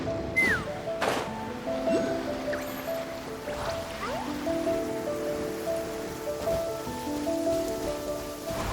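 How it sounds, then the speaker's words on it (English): Rain falling in the video game Genshin Impact, a steady patter of drips and splashes on surfaces that runs evenly throughout under tonal game music, with no one speaking. "Rain. My hair and feathers are gonna get soaked."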